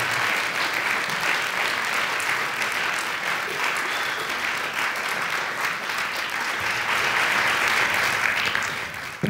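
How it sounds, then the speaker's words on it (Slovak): A large audience applauds a folk ensemble at an awards event, producing steady, dense clapping that holds at an even loudness throughout with no pauses. "Potlesk len a len pre nich."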